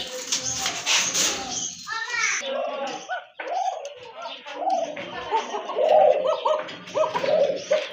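Pigeons being sold in a pair coo repeatedly at close range, their soft throaty calls mixing with other birds while people talk nearby.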